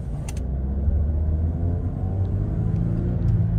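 A Hyundai Grand Avega car engine gives a steady, loud low rumble with a gentle rise in pitch, heard from inside the car with no talk.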